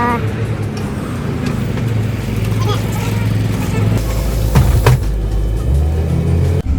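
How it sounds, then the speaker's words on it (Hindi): A bus pulling up at a roadside stop in Italy, its low engine rumble steady and close throughout, with passing traffic noise and a brief clatter near the end. "ये हमारी बस भी आ गई है"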